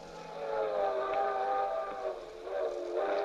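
Circus train sound effect from a radio suspense drama: sustained, whistle-like chords ring steadily over a low rolling rumble for the whole stretch, fairly loud and with no voices.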